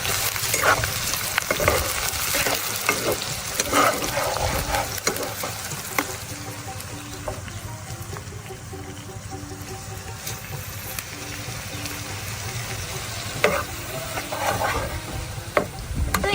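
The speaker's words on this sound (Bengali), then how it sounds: "এবার মরিচ কুচিটা দিয়ে দিব এটা একটু আমি বাদামি কালার হওয়া পর্যন্ত একটু নাড়াচাড়া করব" Chopped chili and onion fry in a pan with a steady close sizzle, while a spoon scrapes and stirs through them in intermittent strokes over the whole stretch.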